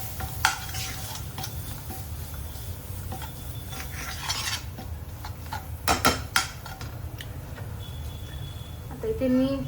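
Spices and salt stirred in a pan for a veg frankie filling, with a steady scraping, stirring rustle over a low sizzle and occasional utensil clinks.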